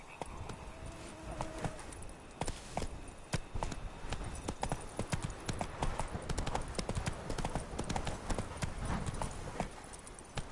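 Hooves of Roach, the horse in The Witcher 3: Wild Hunt's Blood and Wine expansion, clip-clop in a steady, brisk gait under continuous background game ambience, with no talking.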